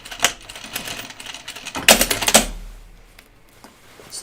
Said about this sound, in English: so I'm just going to stitch in the ditch right here.